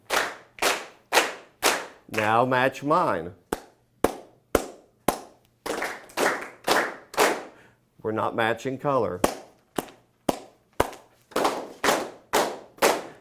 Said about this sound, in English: Think of the exercise we did when we were clapping.